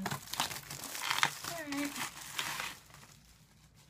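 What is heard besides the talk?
plastic nail polish packaging being opened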